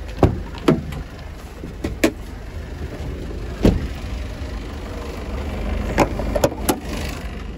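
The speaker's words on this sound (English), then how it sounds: "I'm just going to leave the engine running and show you in the engine bay" A Citroen Relay 2.0L van engine idles steadily in an open engine bay, a low continuous rumble with a few sharp clicks and knocks standing out above it.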